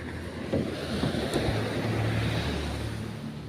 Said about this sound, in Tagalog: May sira na naman yung makina.